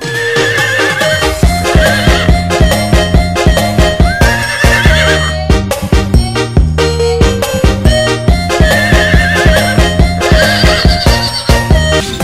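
A colorful plastic toy horse with lights plays a loud electronic neighing effect with clip-clop hooves and a tune, running continuously and close up.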